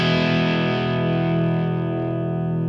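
Heavily distorted electric guitar from a Zakk Wylde signature Gibson Les Paul on its bridge EMG pickup, a loud sustained overdriven chord ringing steadily on its own without fading.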